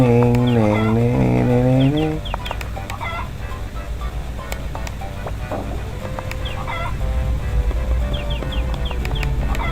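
Chickens cluck in the Harvest Moon: Friends of Mineral Town video game, a few loud rising clucks up front followed by scattered short game blips and clucks over steady background music.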